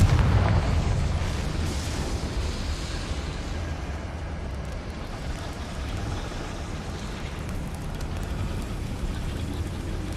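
A Confringo blast spell from Hogwarts Legacy bursts at the start with a loud booming hit, then trails into a long rumbling, crackling wash of debris and ambience that slowly fades but lingers throughout.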